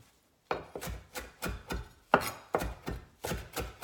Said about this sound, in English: when I'm chopping fresh herbs, I keep my hand up, so my hand is on the back side of the blade